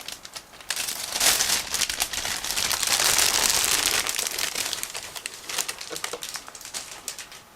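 Close, crinkly rustling of the parts bag of an ICM 1/35 scale model truck kit being handled and opened, swelling louder in the middle then settling into scattered crackles.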